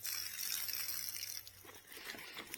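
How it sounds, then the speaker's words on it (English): Water drips and trickles out of a motorcycle jacket hung up to drip dry, a continuous light watery patter close by with a few brief splashy drops toward the end. "you see it's drip drying, letting the water out"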